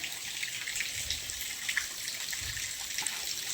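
Water from a hose running onto vegetable plants such as chillies and brinjals in a home garden, a faint, continuous trickle and splash with small soft gurgles and no talking.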